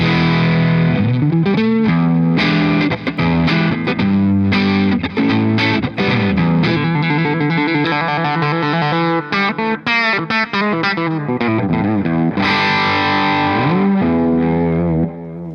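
A distorted electric guitar plays chords and riffs through a NUX MG-50 Li amp modeler, loud and continuous with a gritty, saturated tone and no talking.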